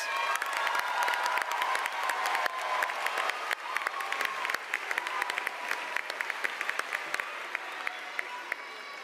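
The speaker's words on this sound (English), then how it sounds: "Let's give all of these students a round of applause" A high school graduation audience bursts into sustained applause, dense clapping with scattered cheers and shouts, loud and filling the hall throughout.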